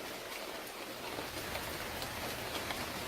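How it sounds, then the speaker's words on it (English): Heavy rain pouring down steadily, a dense continuous hiss of drops on surfaces with no pauses, even and moderately loud throughout. "it's absolutely chucking it down with rain."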